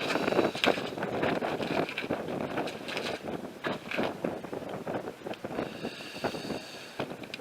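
Strong wind buffets the microphone outside old coastal bunkers at night. The rumble is loud and continuous, with gusty swells and a few higher whistling tones, and no one speaks.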